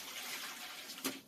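Residue water from a whole-house water filter housing is poured out in a brief, soft rush of liquid that ends in a small splash, with no talk.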